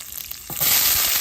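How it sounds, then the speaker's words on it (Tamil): Curry leaves are tossed into hot oil for tempering, and a quiet frying hiss swells abruptly into a loud, bright, close sizzle that holds steady, with no talking. "தாளித்து கொள்ளுவோம் கருவேப்பிலை போட்டு கருவோம்"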